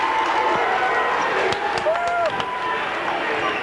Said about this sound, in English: And it gets the Pella Christian crowd on their feet early.